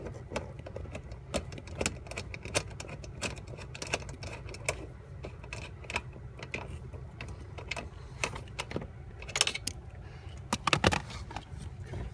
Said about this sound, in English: I'm snugging up the 12mm airbag bolts